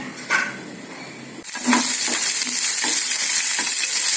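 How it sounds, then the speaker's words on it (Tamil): Onions sizzle steadily in a hot pan, with occasional scraping stirs of a spoon against the metal. "கொஞ்சம் வெங்காயம் வதங்கட்டும்"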